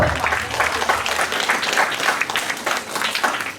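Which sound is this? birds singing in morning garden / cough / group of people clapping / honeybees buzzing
group of people clapping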